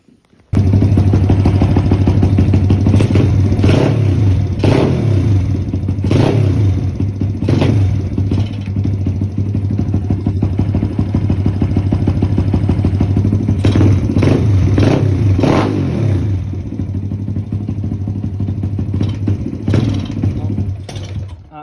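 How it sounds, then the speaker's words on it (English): An SSR YX140 pit bike engine runs loud and steady close by for the whole stretch, with its low drone dipping and bogging and a few sharp clattery revs and knocks breaking through. "Why the fuck is she bogging?"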